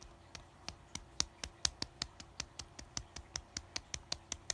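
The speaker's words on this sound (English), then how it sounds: "so let's clap it up" Faint, steady hand claps repeat in an even rhythm, about five per second, a single clapper close by in a quiet room.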